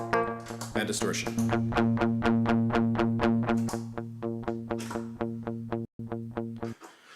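Electric guitar played through a distortion effect on a Headrush unit, a driving, repetitive string of gritty notes with a brief dropout near the end, loud and close.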